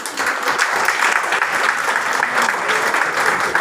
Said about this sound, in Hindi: तो इन लोगों के लिए तालियां।